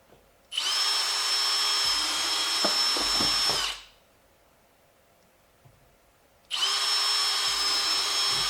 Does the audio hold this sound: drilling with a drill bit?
yes